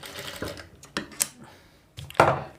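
A sewing machine runs in short bursts while top-stitching the hook strip of a princess-cut blouse, with a few separate clattering runs and handling noises in between, close up and with no talk.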